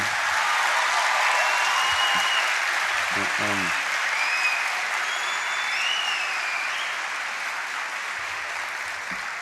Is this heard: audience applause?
yes